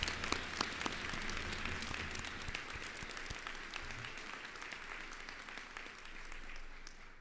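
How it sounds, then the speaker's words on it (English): Sustained applause at a college commencement ceremony, a broad, fairly distant wash of clapping from a large crowd that continues steadily throughout. "Please give a round of applause for Victoria and the Mohegan Veterans Associ"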